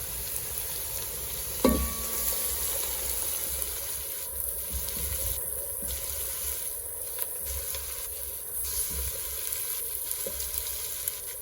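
Spices (turmeric, cinnamon, coriander, ginger, black pepper and curry powder) fry over onions in a pan for an Iraqi fish dish, giving a steady, close sizzle throughout with a single sharp clack near the start.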